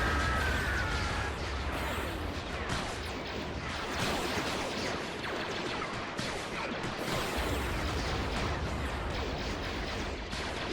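Clone troopers and droids trade fire in a Battle of Geonosis video game fight, a continuous dense barrage of blaster shots and crashing impacts with a few deeper blasts, loud and sustained without pause.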